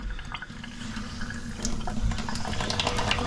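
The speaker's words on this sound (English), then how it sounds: "We're just going to run the tap." A kitchen sink tap runs steadily into the basin after a plug hole replacement, a close, continuous gush of water that grows a little fuller and louder partway through, with faint drips and splashes and no voices.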